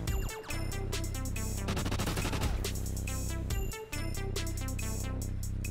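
Rapid automatic fire from an MTAR rifle in Call of Duty: Ghosts, long sustained bursts of loud close shots with a brief pause mid-burst, alone without talk.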